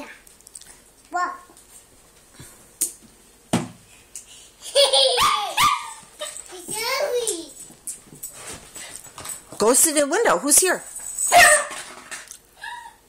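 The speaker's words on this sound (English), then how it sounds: "Now Daisy is barking too." A dog barks in a few short bursts at moderate distance in a home, with a child and an adult talking and playing nearby.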